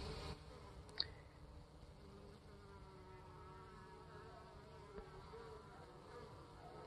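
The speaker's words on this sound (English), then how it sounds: "There are bees fanning the entrance of this hive already." A faint, steady hum of many honeybees fanning at a hive entrance in February, buzzing continuously, low and close, with a soft click near the start.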